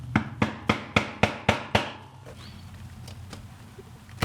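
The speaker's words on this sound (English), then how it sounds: "there is no way to get this into this without a hammer" A leather punch is driven through leather with a hammer, seven sharp, evenly spaced strikes in quick succession, close and crisp, followed by quiet handling and a few faint taps.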